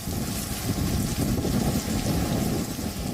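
Torrential rain pours down in a thunderstorm with strong winds, a dense, loud hiss of rain with gusty wind buffeting the microphone and deep rumbling underneath.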